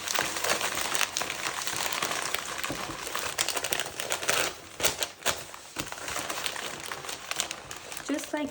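Wrapping paper crinkles and rustles continuously around a bouquet of roses, dense close crackling with sharper crumples and folds, while a person talks over it.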